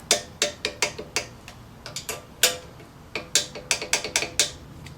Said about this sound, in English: we're going to use our 12mm socket again and a foot-pounds wrench and tighten them to 29 foot-pounds